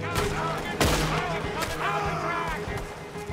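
Sniper rifle gunfire rings out in Red Dead Redemption 2 from a hilltop: sharp sporadic shots, one loud crack near the start, amid a dense battle din with distant gunfire.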